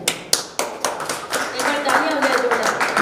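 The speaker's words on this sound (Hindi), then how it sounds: "जोरदार ताली" Loud, lively applause at a book launch ceremony, starting with a few sharp separate claps that swell into dense, sustained clapping from an audience.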